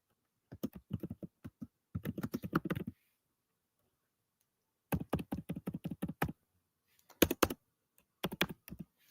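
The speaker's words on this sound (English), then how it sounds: "Y'all hear me typing?" Bursts of keyboard typing, close and clear, in quick clattering runs separated by short pauses.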